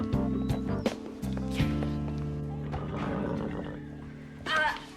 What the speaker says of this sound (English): Would you please calm your horse?